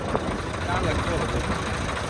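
A two-wheel walking tractor in a field preparing for soybean planting runs with a steady, rough engine drone, close and constant throughout.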